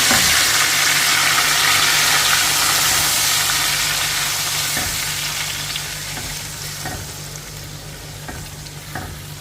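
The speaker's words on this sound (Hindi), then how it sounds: "ये देखिए मसाला क्रैकल होने लगा है, तो अब इस स्टेज पे हम मटन ऐड कर देंगे।" Mutton being added to crackling masala for a Purani Delhi style Mughlai korma, giving a loud, steady broadband sizzle with stirring scrapes and a few sharp clacks, all without talk.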